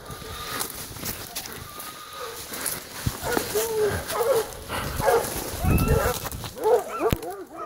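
A pack of hunting dogs barks and yelps in a scattered, excited chorus at a distance in the woods during a wild boar hunt, with rustling movement and occasional voices mixed in.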